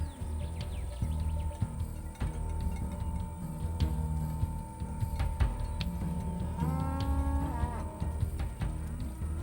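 Maasai cattle low at dusk near a thorn-walled village, several deep moos rising and overlapping from close and farther off, with soft clicking and faint bird calls in the background.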